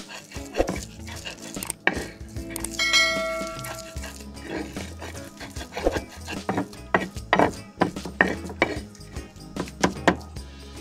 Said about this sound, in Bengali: এবার সবকিছু একসাথে খুব ভালো করে পিষে নিব।